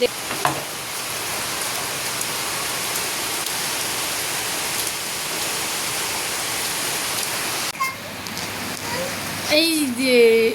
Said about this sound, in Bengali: এখনও টানা বৃষ্টি পড়ছে মুষলধারে